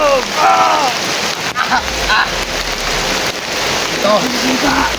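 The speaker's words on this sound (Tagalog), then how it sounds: "Lakasan mo pa ang ulan!" Steady rain pours down in a constant hiss while someone shouts excitedly over it.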